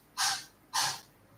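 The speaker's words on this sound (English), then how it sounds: "My cat sneezed." A cat sneezes twice, quick soft bursts of breathy air about half a second apart, close by in an otherwise quiet room.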